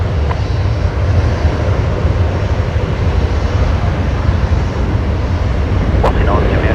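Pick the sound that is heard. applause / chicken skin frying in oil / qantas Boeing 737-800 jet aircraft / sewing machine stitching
qantas Boeing 737-800 jet aircraft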